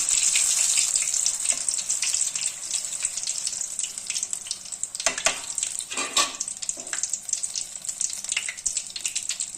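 Green chilli bajji fry steadily in hot oil over a low flame, a dense, continuous sizzle and crackle that stays loud and even throughout, with a few brief bursts of spatter.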